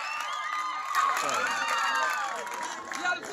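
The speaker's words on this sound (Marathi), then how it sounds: "क्रीडा रसिकांकडून जोरदार टाळ्या वाजतायत." Spectators at a village kabaddi match in Kelshi, Dapoli, clapping and cheering as a crowd, a busy mass of voices and claps over a commentator talking steadily.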